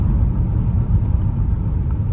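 Heard from inside a 2015 Mercedes-Benz E400 4Matic with a 3.0-litre automatic, a steady low engine and road rumble carries through the cabin as the car accelerates, with no talking.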